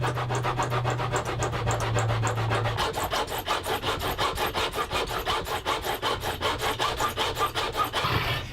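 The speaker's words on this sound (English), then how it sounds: "I'll clean up the edges of those frets using my homemade fret beveling files" Homemade beveling files rasp along the fret edges of a cigar box guitar neck: steady back-and-forth filing strokes, close and even, settling into a regular rhythmic scrape with a low hum underneath early on.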